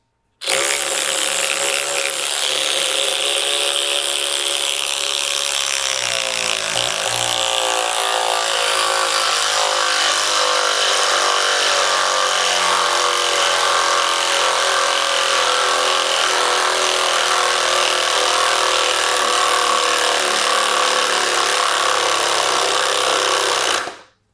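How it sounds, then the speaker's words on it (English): A Ryobi ONE+ cordless impact tool drives a lag fastener into a treated 6x6 timber, a loud continuous rapid hammering rattle that runs unbroken for over twenty seconds, slightly deepening in tone partway through, with no talking. "We're going to drive our lag fastener into this treated 6x6."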